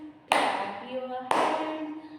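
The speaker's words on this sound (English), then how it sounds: "clap your hands" Two sharp hand claps about a second apart, each ringing briefly in a classroom, alongside a children's action song with a voice singing.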